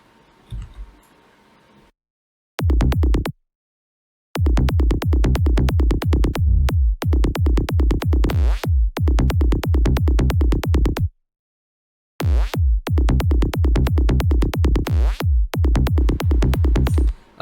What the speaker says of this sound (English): I made the bass line a bit bouncy here in the answer phase.